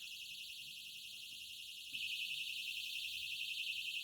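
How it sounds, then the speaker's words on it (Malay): A teacher's alarm buzzer for a school maths innovation project sounds as a continuous high-pitched electronic tone, growing louder partway through and holding steady alone. "Kemudian guru akan hidupkan penggera untuk bagi"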